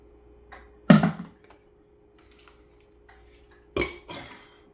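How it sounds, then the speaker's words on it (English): A person who has been eating grass lets out two deep, abrupt burps several seconds apart, each loud and close with a short rough tail, separated by near silence and faint rustling. "The burps are coming from real deep."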